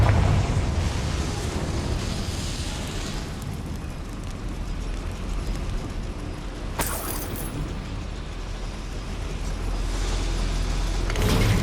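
Confringo fire spell blast in Hogwarts Legacy inside a goblin mine, a loud rumbling roar of flame and explosion that fills the whole stretch, with a sharp crack in the middle and a swell near the end.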